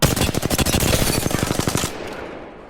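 Rapid automatic bursts from the 301 rifle in Apex Legends, a fast steady rattle of loud close shots for about two seconds before trailing off into a fading echo.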